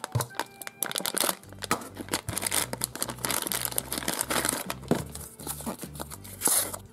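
A plastic packet holding a Fiksiki surprise toy is torn open and crinkled, with rapid close crackling and rustling bursts over a low repeating musical bass line.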